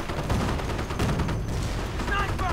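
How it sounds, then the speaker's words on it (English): A Pak anti-tank gun fires at a Sherman tank in a World War II strategy video game: a heavy blast followed by rumbling battle noise and scattered gunfire, loud and dense throughout. "Pak firing away at the Sherman."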